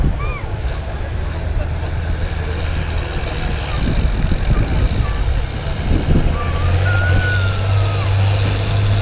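A semi truck engine roars steadily at a tractor pull, with a low drone that deepens and swells toward the end, outdoors, with crowd noise and talk mixed in.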